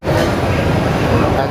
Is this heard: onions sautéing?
no